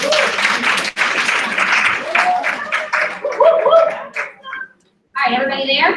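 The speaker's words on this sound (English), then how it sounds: "Let's give her a round of applause" Audience applause at an elementary school math teacher training session, loud and close at first, then thinning into a few scattered claps and chatter. It breaks off briefly into silence before a voice speaks.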